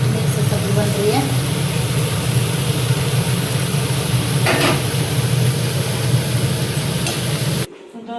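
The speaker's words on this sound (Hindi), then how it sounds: "अब मैं बना रही हूँ सब्ज़ी आलू गोभी और गाजर की" Potato, cauliflower and carrot mixed vegetables stir-frying in a pan, a steady close hiss with scattered scraping clicks running the whole time before cutting off abruptly near the end.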